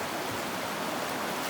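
Steady broadband rush of river water flowing on the North Yuba River in 2020 during a gold nugget hunt, continuous and fairly close with no talk over it.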